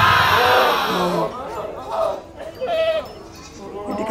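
Goats at a livestock market in Canlaon give several wavering bleats, one after another, over crowd chatter, with someone talking nearby.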